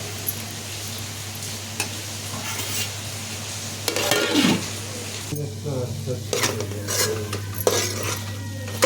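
A prawn and ridge gourd curry is stirred in a pan, giving a steady sizzle with intermittent scraping and clinks of a metal spoon against the pan, some louder bursts of stirring toward the end, close and fairly loud.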